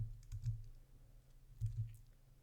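Someone types on a computer keyboard, producing quiet clusters of soft key clicks and low taps with a short lull between bursts, close and faint, with no speech.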